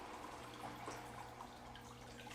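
Water from aquarium hang-on-back filters pours back into the tank as a steady, faint trickle and splash, continuous throughout with no voices.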